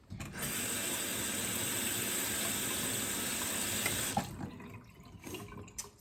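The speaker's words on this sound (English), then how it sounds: "I'm gonna have to wash it again because I put it in the sink" Water runs steadily from a kitchen sink tap while a dish is washed beneath it, a loud continuous rushing stream that cuts off after about four seconds, leaving faint clinks and quiet room sounds.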